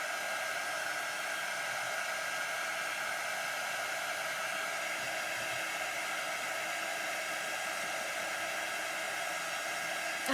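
A hair dryer runs steadily over chalk paste on stenciled trees, an even close-up whooshing hiss that holds without change for the whole stretch, no one speaking.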